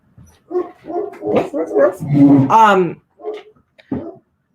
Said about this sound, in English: Oh, go bark at the UPS guy.